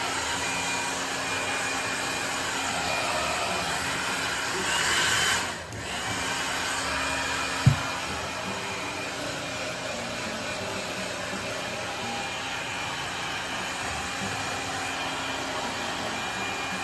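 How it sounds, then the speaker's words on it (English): A blow dryer runs steadily and loudly while a dog is dried at home, a continuous whooshing airflow with a brief dip partway through and one small knock. "then we're going to actually blow dry her and brush her out"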